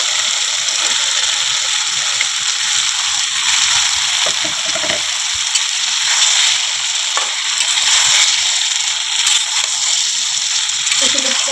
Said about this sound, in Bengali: এখন আমি কেটে রাখা কচুর লতিটা ঢেলে দেবো।